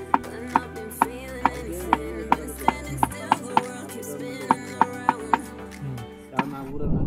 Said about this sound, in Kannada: ಮೊಟ್ಟೆನ ಬೇಯಿಸ್ಕೊಂಡು ಕಟ್ ಮಾಡ್ಕೊಂಡಿದ್ದೀವಿ